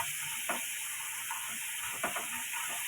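Ginger garlic paste sizzles in a pan while cluster bean curry is being cooked. The frying hiss is steady and close, and a few soft stirring scrapes break through it, with no speech.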